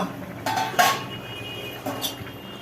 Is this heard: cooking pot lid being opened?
yes